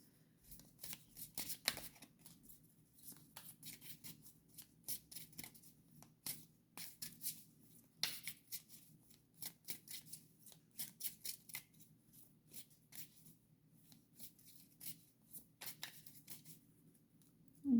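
A deck of cards being shuffled and cut at a table, with quiet, close riffling and flicking bursts in irregular clusters, sharp card snaps, and soft handling in between against a low background hum.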